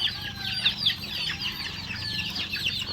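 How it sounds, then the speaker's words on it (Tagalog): Game fowl roosters, including shamo, cluck and call repeatedly in a farm yard, a steady chorus of clucks with one louder squawk near the middle, with no speech. "mga lalaki rin roosters at yan yung iba natin inilagay na natin sa lupa yan yung mga game fowls natin"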